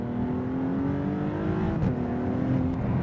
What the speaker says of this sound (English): first impressions driving this car is this twin turbo 6 cylinders. Boost comes on kind of strong